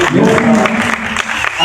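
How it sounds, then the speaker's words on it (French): An audience claps and cheers for a performer at a casting event in Le Port. The applause is a steady wash of noise with a voice talking over it. "on l'applaudit encore, Tawé"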